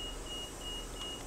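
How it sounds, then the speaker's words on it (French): A train's door-warning beep in Train Simulator 2018, on a TRAXX E186 locomotive, sounds as a thin, faint tone that repeats in short pulses over a low, steady rumble. "le coup de sifflet, le bip."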